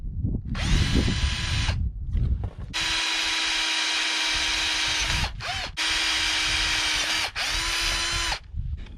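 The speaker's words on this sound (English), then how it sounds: "I'm drilling these holes" A power drill bores holes in a tilt trailer, whining loudly in several long bursts separated by short pauses, with its pitch dipping as it starts and stops.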